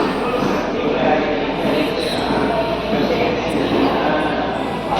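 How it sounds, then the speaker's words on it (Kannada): A metro train rumbles through the underground Siddhivinayak station in Mumbai, a loud, dense, continuous roar with steady noise and faint voices mixed in. "ನೋಡಿ ಮುಂಬೈಯ ಸಿದ್ಧಿವಿನಾಯಕ್ ಸ್ಟೇಷನ್ ಮೆಟ್ರೋ"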